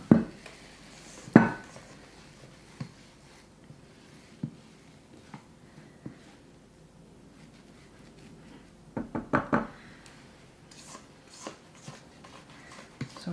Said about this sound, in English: So now we're gonna transfer our cake batter into the pan that we're gonna cook it in